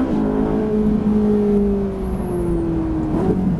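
Ferrari 458 engine on the Le Luc race track, a steady, loud droning tone heard close up that sags slightly in pitch before a brief lift near the end, with no voices.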